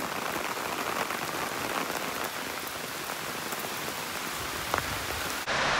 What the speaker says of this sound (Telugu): ఇక్కడ పక్కనే ఉంటే వర్షం పడుతుంది బాగా